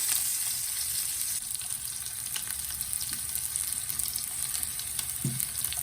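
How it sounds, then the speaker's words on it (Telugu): Steady oil sizzle of turmeric frying in a pan, constant and close, with a faint knock near the end and no talking. "పసుపు వేసి వేయించుకుందాం"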